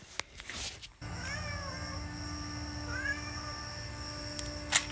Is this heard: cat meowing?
yes